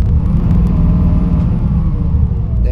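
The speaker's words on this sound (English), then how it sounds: "we might as well just listen to the engine now, so rev it up" Heuliez Access hybrid bus engine revving in the OMSI 2 bus simulator game, a loud, steady low rumble held for the whole stretch with no talk over it.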